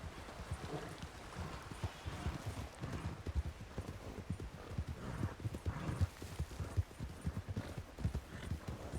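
A horse's hooves clip-clop in a steady walking rhythm in a Red Dead roleplay game, moderately close and fairly quiet, with faint ambient background and no clear talking.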